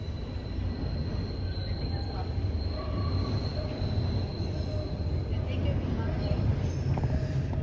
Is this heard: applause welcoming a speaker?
no